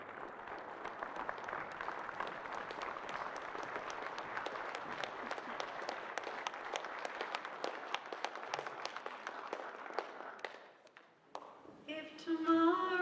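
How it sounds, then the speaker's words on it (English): An audience at a Veterans Day ceremony gives a long round of applause, individual claps distinct within a steady patter, fading after about ten seconds as music begins. "let's end today's affair with a big round of applause"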